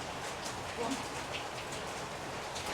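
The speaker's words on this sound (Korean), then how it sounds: "오 갑자기 비 엄청 온다" Heavy winter rain pours down in a steady, faint hiss of dense droplets with no clear breaks, heard from a distance and fairly quiet throughout.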